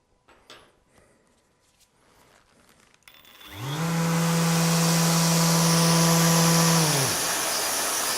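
A Festool ETS EC 150/3 eccentric sander, its pad fitted without the brake, winds up after quiet handling noises and runs as a loud, steady tonal whir for about three seconds before spinning down.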